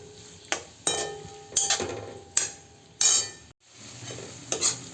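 Sliced onion sautés in hot oil in a kadhai for a soybean bhaji, with a sharp metal spoon clanking against the pan every second or so over a faint, steady sizzle.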